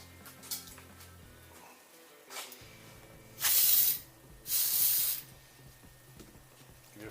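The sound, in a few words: spraying Brake Clean brake cleaner aerosol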